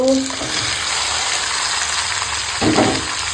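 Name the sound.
onions and green chilies frying in oil with bay leaf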